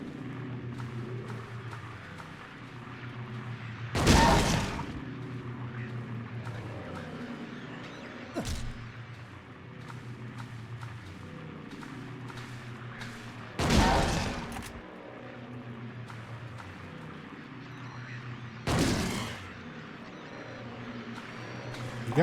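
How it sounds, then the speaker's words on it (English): Three loud, isolated gunshots ring out from a handgun in Silent Hill 2, spaced several seconds apart over a low, droning ambient music bed. "Trying to ready so that I can look around. And accidentally shooting."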